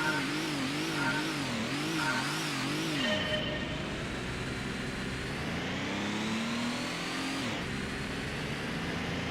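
A Toyota Supra rated at 366 horsepower revving in the racing game Gran Turismo, its engine pitch climbing and dipping in rapid surges, then settling into a steady, rising drone, continuous and moderately loud with no talk.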